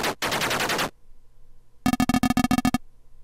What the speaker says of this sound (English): Let's try the bow machine gun at him.